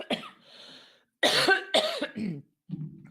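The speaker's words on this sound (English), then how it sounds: "I'm going to cough." A woman coughs several times in close, sharp bursts, with a brief pause between the first cough and a quick cluster of harsher coughs, followed by a faint throat sound.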